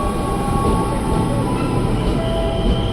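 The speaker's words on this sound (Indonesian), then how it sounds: "Oke, kita dapat KRL Inka juga yang bakal masuk ke jalur 2" A KRL INKA commuter train rolls into platform 2 at a station, a steady close rumble of wheels and carriages with faint squeal and rail hum throughout, no voices.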